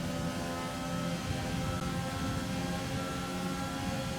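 A Formula 1 car races at Silverstone in an F1 video game, its engine whining steadily at high revs. The sound is continuous and close, with no break.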